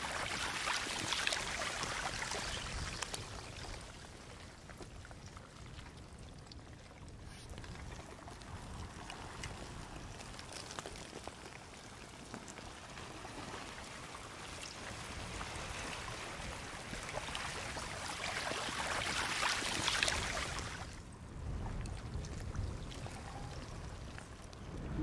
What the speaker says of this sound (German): man hört so ein bisschen Wellen, man hört so ein bisschen das Eis sich hier bewegen